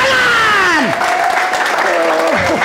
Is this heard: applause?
yes